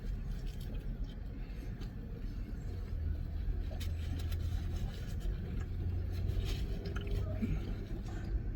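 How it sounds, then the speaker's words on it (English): A big semi truck pulls up beside a building at a street-food stand, its low engine rumble steady and moderately close, rising slightly midway, with no talk over it. "There's a big semi truck pulling up beside the building."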